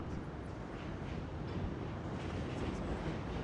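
Steady low rumble of the number 7 subway train running along Roosevelt Avenue in Jackson Heights, Queens, a continuous dense roar that fills the scene without a break.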